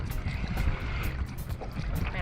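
Steady broadband wind rush from rowing a boat headlong into a decent wind on the water, constant and fairly loud throughout with low rumble and no distinct strokes standing out.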